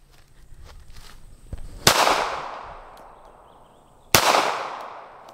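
Two sharp, loud outdoor pistol shots from a Smith and Wesson Bodyguard 2.0 .380 fired at a tree target about 25 yards away, each crack followed by a long decaying echo, with faint rustling before the first.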